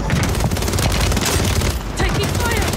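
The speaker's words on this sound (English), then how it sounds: "Taking fire." Dense automatic gunfire and rapid shots in a Call of Duty: Warzone match, loud and continuous across the whole stretch, with overlapping bursts.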